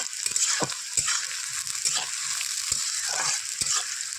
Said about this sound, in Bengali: দিয়ে আমি লাল লাল করে ভেজে নেব